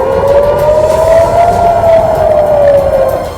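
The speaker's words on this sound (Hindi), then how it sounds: "वहां हमलों की चेतावनी के सायरन बजने लगे।" An air raid warning siren at Tel Aviv airport wails loudly as one long tone, slowly rising and then falling in pitch, with no speech.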